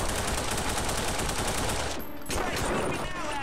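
Rapid gunfire in The Punisher video game on the original Xbox comes as a dense rattle of close, loud shots. A voice is heard briefly amid the shooting.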